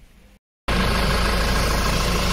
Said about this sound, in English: Now let me go turn the engine on and see if this shows good charging